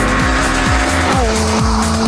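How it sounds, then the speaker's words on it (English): A Mugen Civic RR sports car engine screams hard on a test track, revs climbing and dropping in a repeated pattern of upshifts, loud and close, with some tire squeal and no talk. "But just listen to that engine and all those problems just disappear."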